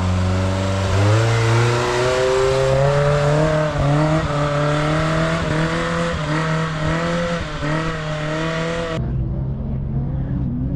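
A car engine revs hard through a wheelie competition run, a loud sustained roar whose pitch climbs and wavers steadily for about nine seconds before cutting off abruptly, with no talking.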